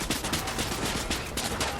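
Dense, rapid gunfire in Fortnite Battle Royale crackles without pause, a sustained burst of loud shots filling the whole stretch with no voices.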